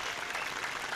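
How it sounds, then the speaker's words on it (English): A dense, even wash of applause from a clap track sound effect, steady and continuous throughout its short length with no voices standing out. "Put in the clap track."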